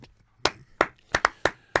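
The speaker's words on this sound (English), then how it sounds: "I'm clapping that you're okay" Hands clap six times in an uneven rhythm, close and crisp, with a quick double clap near the middle and quiet between the claps.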